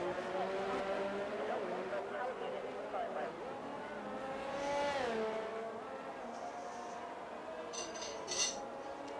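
Race cars roaring through the wall of champions at a Canada round of the ARC Tier 2 series, engine notes climbing and falling as cars sweep past, one loud pass mid-way, with commentators talking over the racing.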